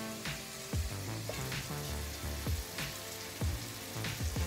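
Onion sizzles and fries in a pan with ginger-garlic paste and salt, a steady crackle broken by a few soft stirring scrapes, close and moderately loud with no talking.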